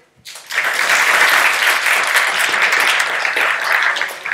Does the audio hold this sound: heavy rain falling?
no